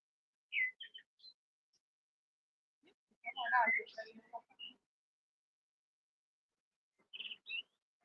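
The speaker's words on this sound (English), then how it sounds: "most of the birds that you will hear today singing are blackbirds." Blackbirds sing in short, separated phrases of clear chirps and warbles in the Buda Castle Quarter in Budapest, with long quiet gaps between bursts, heard moderately close against an otherwise silent background.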